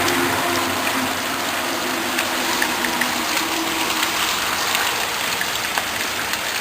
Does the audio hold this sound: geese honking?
no